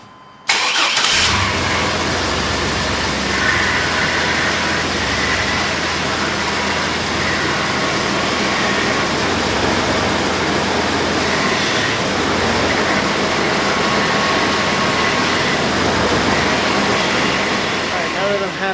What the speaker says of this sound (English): start it up and turn the steering wheel lock to lock a bunch of times